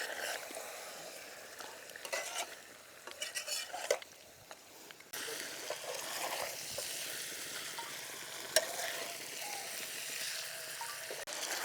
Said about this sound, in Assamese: এতিয়া আৰু ভাজি থাকিলোঁ